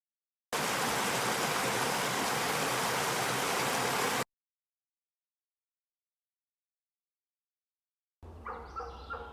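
The James River rushing along the Appalachian Trail, a steady loud broadband wash of flowing water for several seconds that cuts off abruptly, followed by silence and then quieter water returning.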